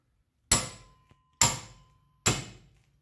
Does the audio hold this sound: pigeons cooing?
no